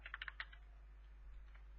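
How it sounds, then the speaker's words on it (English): Short burst of keystrokes on a computer keyboard while entering an SQL insert query, a quick cluster of clicks at the start fading into quiet room noise. "here I'm just typing insert into"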